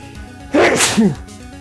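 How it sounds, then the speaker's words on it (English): A single loud, close sneeze from a video game bursts out briefly over quiet background hum. "could you not sneeze, please?"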